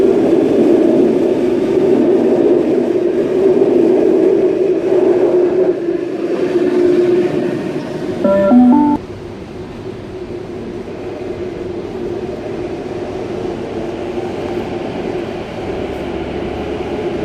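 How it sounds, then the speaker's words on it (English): A Waratah Series 1 electric train arrives at a station at night, a loud, steady rumbling hum that swells, gives a brief tonal chime, then settles into a lower steady drone. "we have a per-hour service operated by Waratah Series 1 set Buffer OTAR A42"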